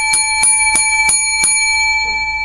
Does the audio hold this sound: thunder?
no